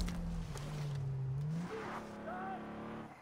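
Vehicle engine rising and falling as a car drives past in the open-world shooter Far Cry 3, a moderately loud pass with shifting pitch, while someone talks over it.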